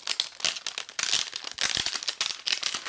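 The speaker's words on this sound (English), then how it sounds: "So we'll take the plastic off here so you can see it better." Plastic wrap crinkles and crackles in busy bursts as it is peeled off a new NVIDIA RTX 2060 Founders Edition graphics card, close up, with no talk.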